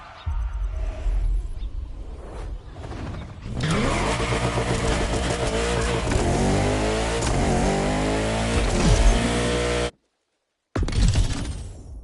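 A La Ferrari supercar in The Crew video game roars as its engine revs hard and climbs through gears. The loud, sustained engine note briefly cuts to silence near the end before returning.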